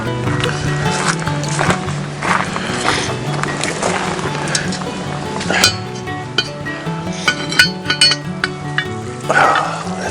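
Zucchini stirred into a sizzling Dutch oven at a campsite, with a steady frying hiss under repeated scraping and clinking of a utensil against the cast-iron pot.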